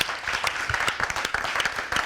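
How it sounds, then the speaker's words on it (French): Audience applause for a woman being congratulated on a radio talk show, a dense wash of many hands clapping with a few sharper nearby claps, steady and fairly loud throughout. "si on la félicite, on va l'applaudir très fort"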